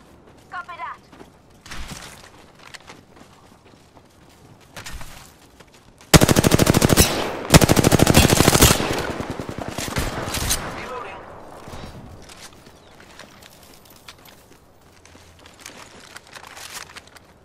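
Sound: gunfire in a video game

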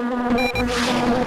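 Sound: bees buzzing in The Grinch video game

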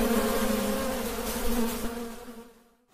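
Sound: honeybees buzzing

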